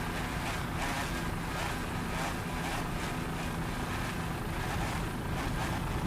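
A Superstock racing powerboat running on water, its engine roar and wind rush filling the whole stretch as a steady, fairly distant drone.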